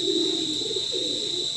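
Madras pigeons give low, drawn-out coos close by over a steady high-pitched whine that runs through the whole stretch.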